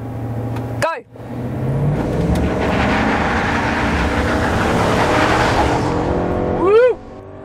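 Chevrolet Silverado 1500 6.2-litre V8 petrol pickup accelerating hard while towing a heavy load, a sustained loud engine roar building steadily, with brief excited shouts near the start and end.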